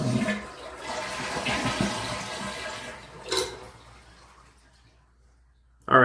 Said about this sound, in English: drain this tank by just flushing our toilet